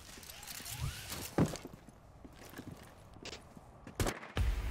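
Scattered gunshots crack during a round of The Siege, with several sharp, loud reports spaced irregularly over a busy game background of footsteps and movement, and faint voices in the mix.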